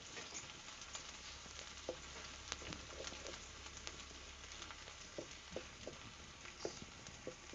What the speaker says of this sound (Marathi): हे धने जिरे आलं लसूण बारीक करून घेतलं ना ते घालूया आणि परतून घेऊया आपण थोडंसं